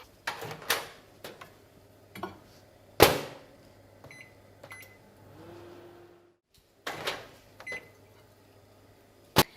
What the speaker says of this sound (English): heating this up in the microwave until it's actually boiling. About a minute on high.